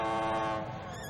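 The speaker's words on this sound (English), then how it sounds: "Theodore blew and blew, trying to make his whistle sound serious and important." A tugboat whistle blows a sustained, rich harmonic tone, bright and steady for most of a second before wavering and thinning out toward the end.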